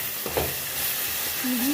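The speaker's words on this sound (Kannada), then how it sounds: "ಇದು ಹಸಿ ವಾಸನೆವರೆಗೂ ಒಂದು ಸ್ವಲ್ಪ ನೀಟಾಗಿ ಬಾಡಿಸ್ಕೊಳ್ಳಿ" Garam masala fries in a pan with a soft steady sizzle and hiss, a brief stirring scrape near the start, close and moderately loud, with a short voiced sound near the end.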